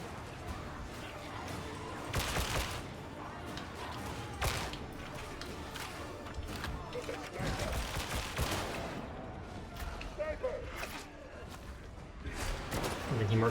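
Dense gunfire from Warhammer: Darktide, bursts of shots and impacts cracking steadily over a busy game soundscape, with talking mixed underneath throughout.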